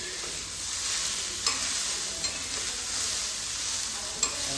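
Vegetable roll filling frying in a pan at home, giving a steady close sizzle with a few sharp clinks and scrapes from a spatula stirring the mixture.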